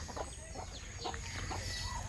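Chickens and ducks kept on a rural farm cluck and call faintly in the distance, scattered short bird calls over a low outdoor background hum.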